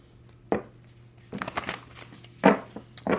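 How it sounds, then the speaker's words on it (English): A tarot card deck being shuffled, soft riffling and crinkly card sounds in a few brief bursts separated by quiet pauses. "One more shuffle."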